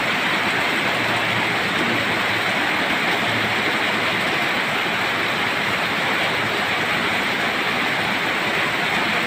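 Steady, heavy rain pours down in a continuous, dense hiss close by, holding an even level throughout with no voices.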